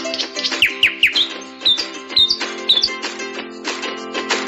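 Sharp, high bird chirps come in quick pairs and short bursts, close and clear, over a steady low hum with no one speaking.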